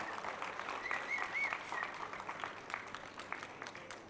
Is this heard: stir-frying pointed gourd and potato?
no